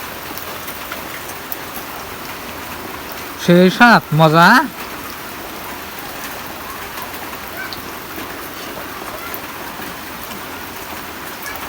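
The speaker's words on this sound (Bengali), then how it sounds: "বাইরে বৃষ্টি হচ্ছে বন্ধুরা বাইরে বৃষ্টি হচ্ছে" Rain falling outside, a steady, even hiss of drops heard from indoors throughout, with a brief spoken phrase partway through.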